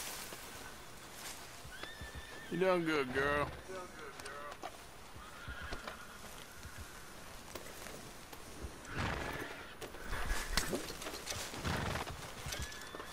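A horse whinnies loudly with a wavering neigh in the video game Red Dead Redemption 2, followed by clip-clopping hooves and a second whinny later; a person speaks briefly.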